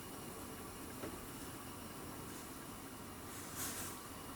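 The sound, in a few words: herbal cough syrup boiling in a pot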